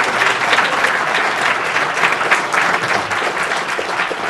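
Loud, sustained applause from a large audience at a live charity speedrun event, a thick continuous roar of clapping with no pauses.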